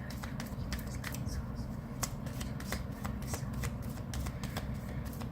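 A deck of tarot cards shuffled continuously, dense rapid flicking and slapping close up over a steady low background hum, with a voice talking faintly beneath.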